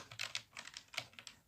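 Quick bursts of typing on a computer keyboard as a search term is entered, keys clicking close and clear in an irregular rhythm with no voice.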